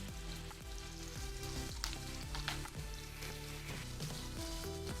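Chicken cubes frying in a hot pan for dry chicken chili, a loud, steady sizzle with crackling spatters throughout and no talking.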